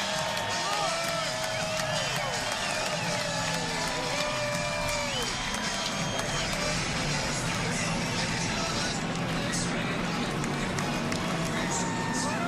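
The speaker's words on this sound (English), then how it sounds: "And a big roar from the crowd as they come past." A massive grandstand crowd roars at the 2020 Daytona 500 as the cars race past on the green flag, a dense, steady wall of cheering and whooping with a commentator speaking over it.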